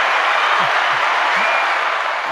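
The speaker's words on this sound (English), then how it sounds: "Give him a round of applause." Dense, steady clapping from a crowd, loud and close, forming a continuous wash of applause with a few low thumps underneath and no clear talk.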